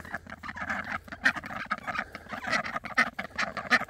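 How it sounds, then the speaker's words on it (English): Ducks quack and call close by in a steady, overlapping chatter, with a few sharper honks standing out over the flock's noise. "Oh, here are the duckies. Hello, duckies."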